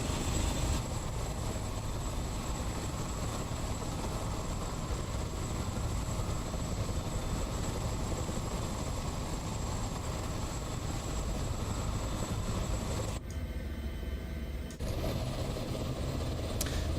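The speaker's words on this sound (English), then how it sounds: "The lovely sound of all those helicopters." Several H145 medical helicopters in Microsoft Flight Simulator, set in London, give a steady droning engine and rotor roar, a dense constant wash that dips briefly near the end and then resumes.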